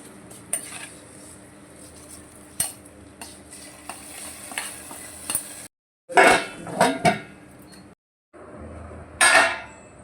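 Wheat rava pongal stirred in a metal pot, with a series of close, sharp spoon-on-pan scrapes and clanks in irregular bursts over a faint sizzle, separated by short silent gaps.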